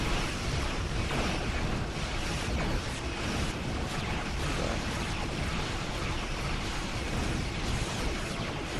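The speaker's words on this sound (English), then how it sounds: "Oh, there's explosions everywhere." Dense, continuous booming blasts from a space battle in the video game Star Trek Online pile up into a roaring wall of explosions that never lets up, loud and chaotic throughout.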